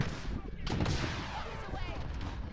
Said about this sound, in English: they're just shooting at the box